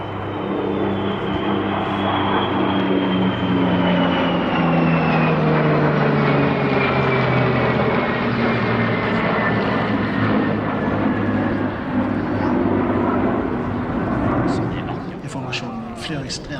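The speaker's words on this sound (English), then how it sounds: "a Saturday exclusive was this heritage flight, featuring the Biltema Spitfire, 2 Vampires of the Norwegian Historical Squadron, and the Danish Air Force's F-16 solo display aircraft" Airshow heritage flight of a Biltema Spitfire, two Norwegian Historical Squadron Vampires and a Danish Air Force F-16 display jet, a loud sustained roar of engines sweeping past with falling pitch, dominating throughout.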